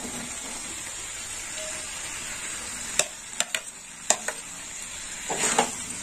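Fried potatoes and vegetable stems being stir-fried in a pan make a soft continuous sizzle, with several sharp scrapes and clatters of a spatula against the metal in the second half.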